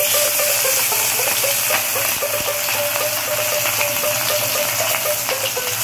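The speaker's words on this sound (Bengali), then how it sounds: "মাখানো মাছগুলোকে এবারে ভাজা হবে।" Marinated tengra fish frying in hot oil, a loud, continuous sizzling hiss with a crackling, spattering texture, with no voices.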